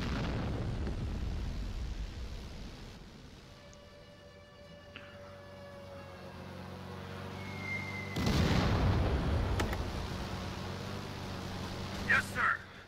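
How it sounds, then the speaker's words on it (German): Fighter plane shooting down an enemy aircraft in the VR real-time strategy game Final Assault, heard as sudden bursts of gunfire and explosions over a steady game-battle background while a person talks. "Now it will shoot down that enemy plane."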